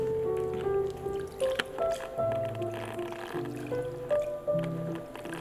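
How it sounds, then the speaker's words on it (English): Water swishes and drips as udon noodles are rinsed in ice water in a bowl, with soft squishing and light splashes under gentle music. "Then gently wash them in ice water"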